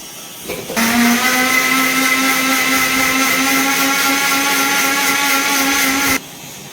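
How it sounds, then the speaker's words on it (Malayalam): A mixer grinder blends apple, beetroot and carrot into juice, a loud, steady motor whine with a high hum that starts abruptly, runs unbroken for about five seconds, then cuts off. "നമുക്ക് മിക്സിയിൽ ഇട്ടിട്ട് ബ്ലെൻഡ് ചെയ്യാം."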